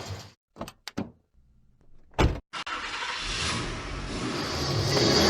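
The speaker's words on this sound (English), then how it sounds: "I'm just gonna take Russ's car home for the night now" Russ's borrowed car pulls away: a couple of door thunks and short bumps up front, then the engine catches and a steady, building driving roar fills the rest, with no talk.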